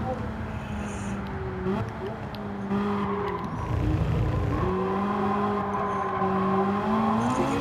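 Ferrari engine roaring and revving in the racing game Gran Turismo 7, a steady loud drone with shifting pitch as it accelerates and changes gear, under someone talking over it.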